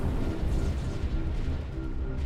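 Heavy MAC cannon fire in the Sins of a Solar Empire game with the Sins of the Prophets mod, from a UNSC Marathon class cruiser during planetary bombardment: a continuous, loud, low rumbling barrage with no distinct breaks, and no talk over it.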